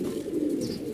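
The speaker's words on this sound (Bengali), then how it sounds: "এই যে একটা কবুতর সিলভার কবুতর" Continuous low, throaty cooing from a silver pigeon fills the moment, close by and steady, without any talk.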